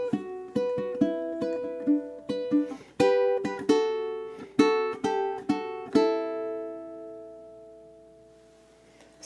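Ukulele duet plucking measures five into six of a song, bright syncopated notes and chords ringing together, ending on a sustained chord that fades out, with no voices.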